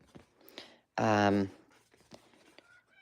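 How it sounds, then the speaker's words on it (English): A single loud, harmonic crow bursts out for about half a second, with quieter scattered rustling and tapping before and after. "if you don't hear my rooster, I'm surprised, because I think he's loud"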